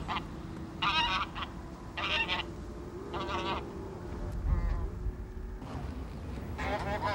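Wild bean geese honking at the Nakdong River estuary, a series of loud harmonic calls in repeated bursts roughly every second, set against a steady low rumble of wind or water, with no talk.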